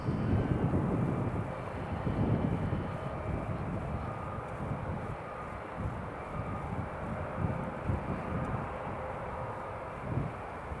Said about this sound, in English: There's the Sun Express just taxiing up on the Delta taxiway